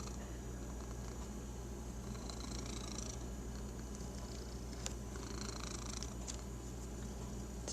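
Close, steady cat purring with a soft low rumbling pulse throughout, faint and continuous, with a couple of light rustles or clicks on top.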